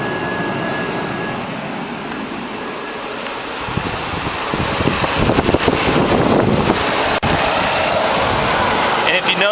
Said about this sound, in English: the compressor is running for a longer amount of time now